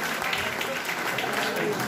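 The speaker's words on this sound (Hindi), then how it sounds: "आए हैं तो जोरदार तालियों से स्वागत करें" A seated audience at a gathering applauds to welcome a guest, a steady, moderately distant wash of clapping that continues evenly throughout, with faint voices mixed underneath.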